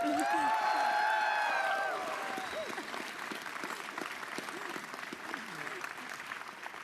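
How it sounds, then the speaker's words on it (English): A political convention crowd in Calgary applauds loudly, the clapping thinning slightly after a couple of seconds while a voice speaks over it at the start. "That deserves a louder applause."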